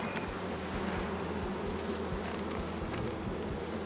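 Honeybees swarm densely around a hive's swarm cell, a steady close buzzing drone that fills the whole stretch without a break, with no voices.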